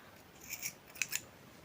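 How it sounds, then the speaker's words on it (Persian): Scissors cut through puffy yarn for a hand-knitted baby blanket: two or three quick, crisp snips, close and quiet, with no talking. "انتهای کار رو قیچی میزنم"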